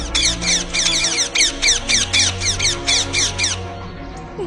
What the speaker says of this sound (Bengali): আশপাশ দিয়ে এক ঝাঁক টিয়া পাখিও ভয়ে উড়ে যায়।